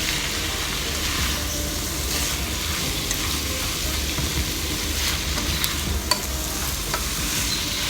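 Ground beef and mustard greens, stalks going in first, sauté in a pan with a steady close sizzle and occasional stirring scrapes throughout, no talking.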